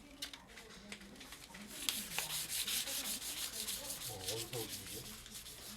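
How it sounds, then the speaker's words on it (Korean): Steady rubbing and scraping of the finest sandpaper on a lacquer-coated bronze Buddha statue, repeated strokes at close range, with faint speech in the background. "옷이 마르면 가장 고운 사포로 갈고 다듬어낸다."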